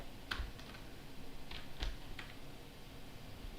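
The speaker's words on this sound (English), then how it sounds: "let me actually type just L." Typing on a computer keyboard while entering a command during a Git server setup, a few soft, sparse keystroke clicks close by over a quiet background hiss.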